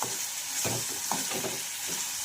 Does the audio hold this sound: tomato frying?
yes